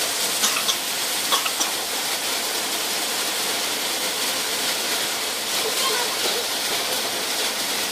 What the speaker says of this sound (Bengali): এবার চালটা ওর সাথে কষানো হবে